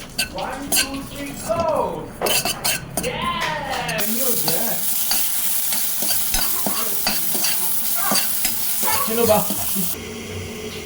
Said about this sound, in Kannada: ಮೆಣಸು, ಏಲಕ್ಕಿ, ಚಕ್ಕೆ, ಲವಂಗ, ಕೊಲಂಜಿ ಇದೆಲ್ಲ ಒದ್ಬಿಟ್ಟು ನಂತರ ಇದನ್ನು ಹುರ್ಕೊಳ್ತೇನೆ